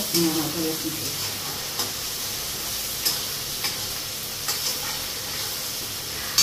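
Ginger garlic paste sizzles steadily in a hot pan while someone talks over it, with a few faint clinks of utensils breaking through the continuous hiss.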